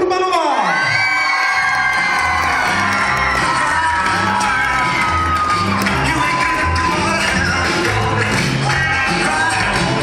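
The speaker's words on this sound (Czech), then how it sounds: "Připravte ruce, budeme tleskat." Crowd at a secondary health school's graduation ball cheering and whooping loudly throughout, with shouts and clapping blended into a dense, continuous roar of voices and music-like tones.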